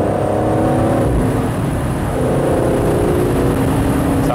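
An Aston Martin Vantage Roadster driving fast, a loud steady engine drone with wind and road roar, the pitch rising and falling slightly as it accelerates and shifts, no talking.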